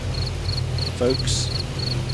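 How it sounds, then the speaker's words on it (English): A short recording of crickets chirping played over a voice chat, with faint rhythmic chirps repeating steadily under low background hum and a brief voice. "Somebody played crickets."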